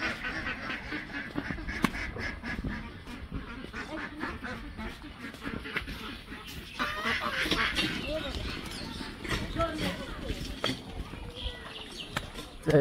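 Ducks quacking in a village setting as they are herded away, with people talking over the flock and a continuous rustle of activity throughout.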